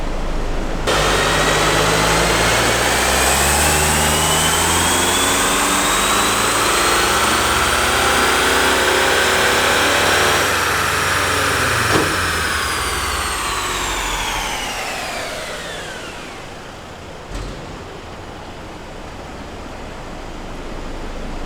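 A diesel-fuelled engine drones loudly and steadily with a broad roar and a rising then falling whine, fading somewhat toward the end, with no talking.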